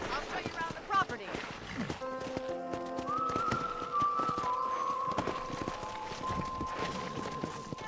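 Horse hooves beat steadily at a riding pace in the video game Red Dead Redemption, mixed with sustained musical tones and a voice.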